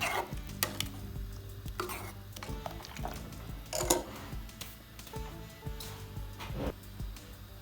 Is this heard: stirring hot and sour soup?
yes